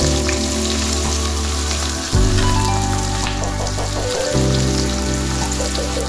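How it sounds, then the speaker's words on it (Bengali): Chopped onion goes into hot oil already tempered with whole cumin and whole garam masala for chana masala, giving a loud, continuous sizzle with a steady hum underneath and a sudden surge when the onion is added. "এবার আমি এর মধ্যে কুচি করে রাখা পেঁয়াজটা দেব।"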